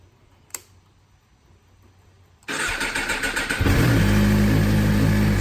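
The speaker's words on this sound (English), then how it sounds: "you want to go ahead and turn on the motorcycle." A 2017 Suzuki GSX-R1000R motorcycle engine cranks and catches after a near-quiet stretch, then settles into a loud, steady, close idle with a deep rumble.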